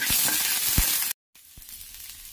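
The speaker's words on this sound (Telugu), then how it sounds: "ఆయిల్ వేసుకున్న తర్వాత కట్ చేసుకున్నటువంటి ఆనియన్స్ వేసుకొని ఫ్రై చేయాలి." Chopped onions frying in oil in a pan, a loud bright hiss of sizzling with a few low thumps of a spatula, broken by a short gap of silence before the sizzle resumes more quietly.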